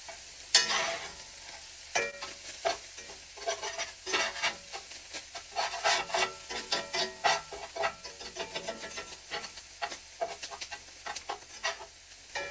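Onions, elk meat and potatoes fry and sizzle in a pan pulled slightly off a gas flame, with steady crackling broken by repeated scraping and stirring strokes, close and fairly loud, with no talking.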